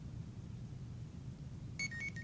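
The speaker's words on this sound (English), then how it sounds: "Sorry about all my alarms." A faint electronic alarm beeps briefly near the end, a few short tones over a low steady indoor hum.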